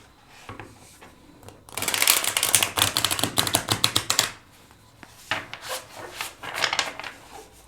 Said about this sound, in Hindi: एक और शफल कर लेते हैं